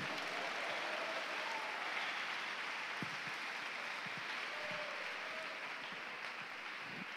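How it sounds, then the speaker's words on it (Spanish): Steady applause from a church congregation during a worship service, continuous and fairly even throughout, with a few low thumps scattered in the clapping. "Dale fuerte aplauso al Señor en el nombre de Jesús."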